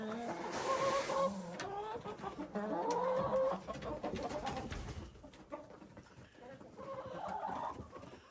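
Several chickens cluck and coo together close by while eating feed on a snowy farm, with pecking and rustling noises throughout and no talking.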